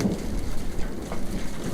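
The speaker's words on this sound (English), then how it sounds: "Big rumbles of thunder." Heavy rain hisses steadily over a low rolling rumble of thunder during an outdoor barbecue by a natural stone patio, the storm sound continuous and fairly close with no talking.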